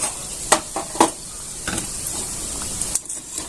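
Bhaji fritters fry in hot oil with a soft, steady sizzle. Several sharp scraping and clinking strokes break through as the fritters are stirred and lifted out.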